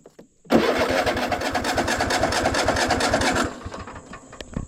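A lawn mower engine with a choke that seems not to engage cranks loudly for about three seconds in a rapid, even chugging rhythm, then stops without catching; close and alone.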